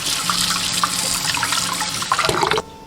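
Pork belly is rinsed under a running kitchen tap, a steady splashing stream of water with small bumps and drips, which then cuts off abruptly near the end.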